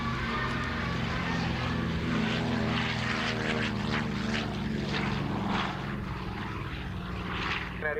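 Propeller airliner, a successor to the DC-2 in Piedmont Airlines livery, billed as the oldest metal-skinned airplane still flying, drones past at a 1989 Fort Lauderdale air show with a loud, steady piston-engine rumble and prop buzz throughout.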